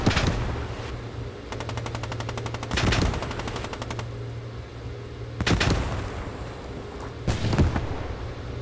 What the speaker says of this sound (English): As the Panzer 38 is trying to put some shots into this building to clear it out